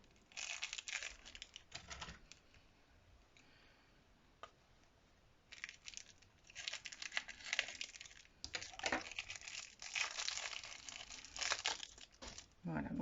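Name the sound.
opening and unwrapping a Christmas gift package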